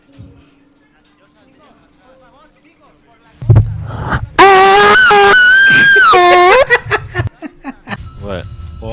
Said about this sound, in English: Get to screaming.